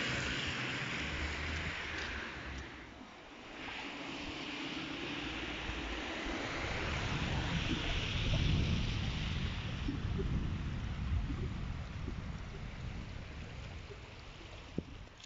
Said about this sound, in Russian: Ветер холодный.